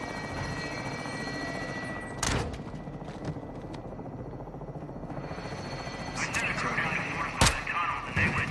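A helicopter in the video game Modern Warfare 2 drones steadily with a broad rotor wash, broken by a few sharp bangs like distant gunfire and impacts.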